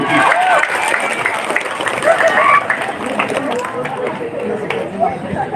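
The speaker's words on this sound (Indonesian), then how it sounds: "Tepuk tangan." Audience applause during a humorous Islamic sermon as someone is called up to the front: busy clapping mixed with crowd chatter and murmuring voices, loud and continuous throughout.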